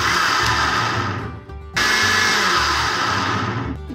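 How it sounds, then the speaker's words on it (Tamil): A small mixer grinder jar whirs loudly blending custard apple pulp, running steadily, cutting out briefly, then roaring back up for a second steady run. "இப்போ கிரைண்ட் பண்ணிக்கலாம்."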